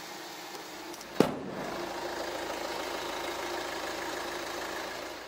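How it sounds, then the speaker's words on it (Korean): A diesel engine in a Hyundai Tucson ix SUV idles with a steady, even hum, preceded by a single sharp thud like the hood slamming shut, and no talking over it. "이렇게 일반적인 경유연료 엔진 소음을 만나보실 수가 있습니다"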